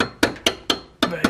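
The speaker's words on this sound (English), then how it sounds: "this is where we can use" Hammer blows on a stainless steel brake line banjo fitting on a Mazda Miata, five sharp metallic taps in a quick, slightly uneven rhythm, close and clear with no talking.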